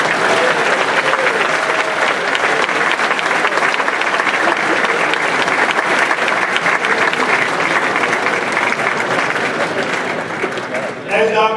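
Sustained, dense applause from a crowd at a winery gathering, greeting Indiana football players brought up front; steady clapping with some voices mixed in, tapering near the end.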